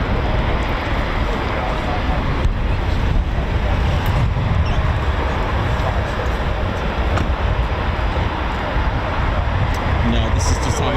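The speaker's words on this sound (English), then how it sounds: "Typhoon that's spooling." Eurofighter Typhoon FGR4 jet engine spooling on a ground run, a loud, steady broadband roar and whine that holds continuously from start to finish, heard at a distance.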